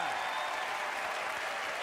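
Comedy theatre audience at a George Carlin stand-up show clapping and cheering, a brief dense roar of applause, steady and fairly loud throughout.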